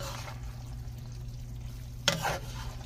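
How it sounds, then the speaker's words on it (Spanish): A metal spoon stirs spaghetti with ground beef in a frying pan, a steady low sizzle running throughout, with a brief sharp scrape of metal against the pan near the end. "es la que tengo para revolver bien la pasta, con cuidado para no rayar mi sartén"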